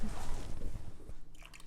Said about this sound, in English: I'm just pouring this in on the sides.